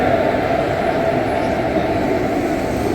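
The Danapur–Anand Vihar Janasadharan Express at Danapur railway station makes a continuous, even rumble that fills the whole stretch with no distinct clanks or horn.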